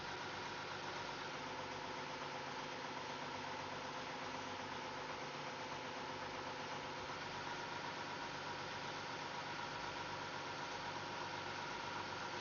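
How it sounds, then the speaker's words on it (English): Outboard boat engine sped up a little while trolling for winter king salmon in Southeast Alaska, a steady, loud broadband drone with a constant hum, unbroken throughout and with no talk. "We speed up the engine a little bit."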